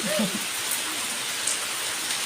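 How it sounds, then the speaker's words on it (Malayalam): Heavy rain pours steadily in an even, dense hiss, close and constant throughout with no voices over it. "നല്ല മഴയാ കുറച്ച് നേരം മഴ കുറവുണ്ടായിരുന്നു പിന്നെ വീണ്ടും തുടങ്ങി"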